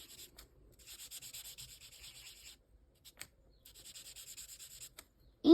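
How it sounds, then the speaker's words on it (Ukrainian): Marker tip rubbing across paper while coloring in grid squares for a pixel drawing, soft scratchy strokes in short bursts separated by brief pauses, close and quiet. "І замальовуємо. Ну, так приємно, коли той маркер так добре пише."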